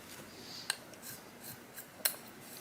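Shears are drawn across a 2000 grit Nagura whetstone, giving two sharp metallic scrapes about 1.4 seconds apart over a quiet background hiss, close and fairly faint.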